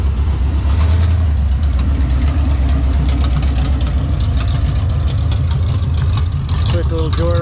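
A Chevrolet Nova barn find runs with its engine idling in a loud, steady, close-up rumble for the whole stretch, with indistinct voices mixed in underneath.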